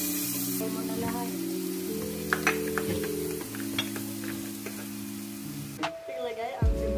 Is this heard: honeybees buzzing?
no